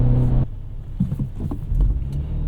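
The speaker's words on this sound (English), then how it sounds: "So kind of have to shift, wait a second, and then disengage the clutch" A 2023 Acura Integra with a manual gearbox shifting gears: a steady engine drone drops away abruptly, then lower uneven rumbling and clunks follow as the revs settle and the engine pulls again.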